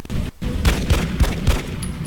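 Gunfire from the strategy video game XCOM: Enemy Unknown, a rapid series of four or five sharp loud shots in quick succession over a noisy game background, followed by a high electronic tone.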